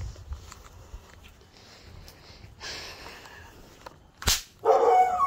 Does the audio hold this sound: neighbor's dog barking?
yes